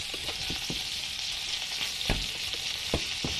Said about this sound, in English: So now all we have to do is sear it.